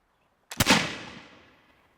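A single 18th-century musket fired at a target on an outdoor range: one sharp, loud report after a moment of silence, followed by a rumbling tail that fades over about a second.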